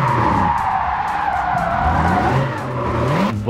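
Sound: tires skidding while drifting a car in video game Japanese Drift Master

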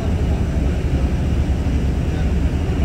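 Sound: airplane flying overhead

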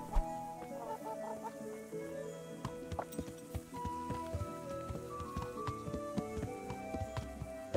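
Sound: chicken clucking in the video game Kingdom Come: Deliverance

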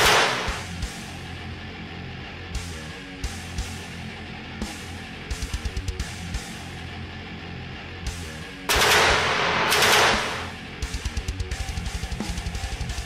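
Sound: gun turret gunfire sound effect

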